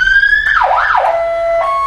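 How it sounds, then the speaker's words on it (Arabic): An emergency vehicle siren sounds loud and close, a rising tone breaking into a fast wailing sweep before settling into a steady high note, with nobody speaking. "انت السرينه واحده ولا في انواع معينه؟ في كذا نوع سرينه."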